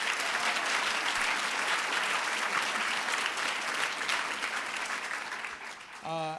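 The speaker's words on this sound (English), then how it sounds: "Let's give them a round of applause." An audience applauds loudly and steadily, a dense wash of clapping that fades slightly near the end as a voice begins.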